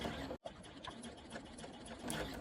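Sewing machine back stitching through zipper tape and lining on a two-tab top zipper, using a short stitch length; a steady close mechanical whir, briefly cut near the start, then continuing alone.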